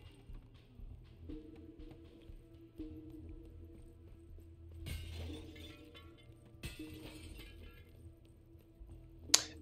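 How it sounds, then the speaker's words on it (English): In the martial arts video game Sifu, glass shatters in a couple of sharp, bright crashes with tinkling debris over a quiet low in-game backdrop, followed by a final sharp impact near the end. "The glass sound effect, so punchy."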